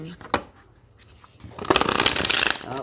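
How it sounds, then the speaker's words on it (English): A deck of playing cards is handled quietly and then shuffled loudly up close, producing a dense, sustained burst of rapid flutter and rustle that fills the second half. "All right, that's a good shuffle."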